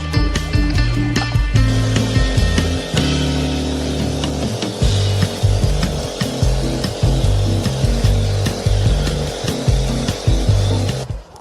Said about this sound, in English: in this hard mode, dirt on the path is removed instantly